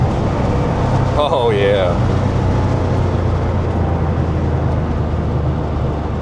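A 1985 Porsche 911 Carrera engine drones steadily and loudly from inside the car while driving, with someone briefly speaking over the constant low rumble.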